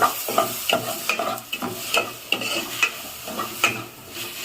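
Chopped tomatoes frying with salt in a pan for chickpea flour sambar, a steady sizzle under repeated scraping and stirring strokes, close and fairly loud throughout.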